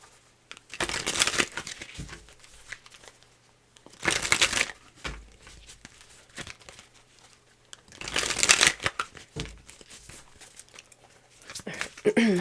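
Tarot cards are shuffled in three loud bursts of riffling and crinkling. The bursts are separated by quieter handling and soft rustles.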